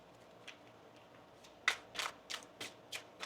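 A deck of tarot cards shuffled by hand close by: a few quiet riffles, then a quick run of about six crisp bursts, fairly soft, with no speech.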